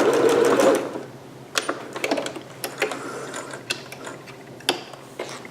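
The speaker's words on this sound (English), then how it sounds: "so stitch, back stitch, and then back stitch again when you reach the other dot." A sewing machine stitching and back-stitching a seam on a green performance gown, a close, loud mechanical whir at first, then short bursts of rapid clicking stitches with pauses between, no talking.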